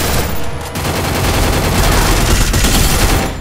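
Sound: gunfire in a battle royale video game

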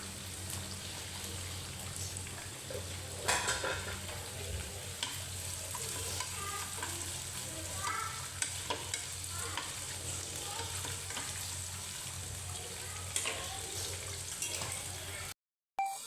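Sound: sliced onion sautéing in coconut oil in a pan

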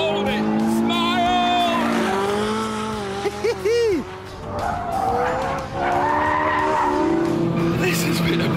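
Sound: Ferrari 458 Italia drifting with skidding tires

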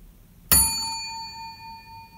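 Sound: doorbell found on rue Saint-Pierre ringing

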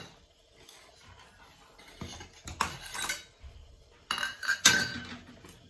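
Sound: packing puttu mixture into steaming mould

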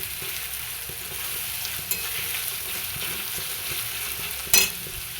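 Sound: onions frying for mutton offal curry

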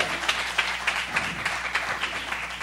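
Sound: church congregation applauding

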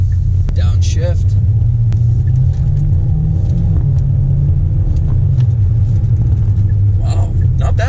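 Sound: Hyundai Elantra engine revving on a downshift

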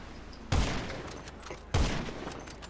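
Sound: minigun fire in the video game Grand Theft Auto V

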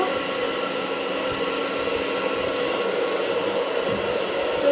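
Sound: hair dryer blowing hair dry

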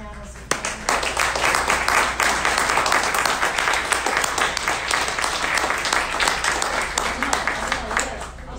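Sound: applause for the panelists

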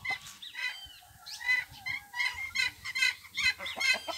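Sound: roosters fighting

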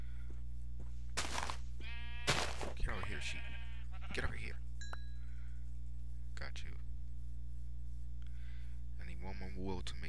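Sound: sheep bleating in Minecraft video game

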